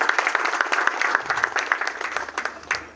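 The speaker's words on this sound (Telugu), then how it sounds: "ఇప్పుడు కొట్టండి చప్పట్లు మీరందరూ." Audience clapping at a political gathering, a crowd applauding in a brisk, fairly close rhythm that fades toward the end.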